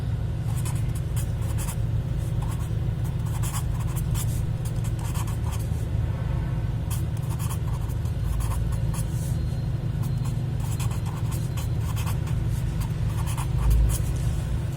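Pen writing on paper while solving triangle-area and midpoint geometry problems, a steady scratchy stroke texture running continuously over a constant low background hum, no talk heard.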